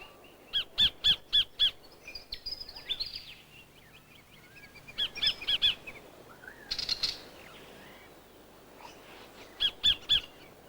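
Outback kingfishers in Australian woodland give loud bursts of rapid, repeated calls in three separate bouts, with softer chattering and bird sounds between them against a quiet background.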